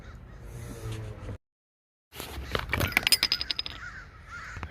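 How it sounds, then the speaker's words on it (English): Several crows caw outdoors, a run of loud, close, rhythmic caws following scattered calls and a brief silent gap, with rustling background noise. "Oh, Mama Crows are all over here."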